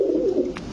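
A golden pigeon gives a single short, low coo close by.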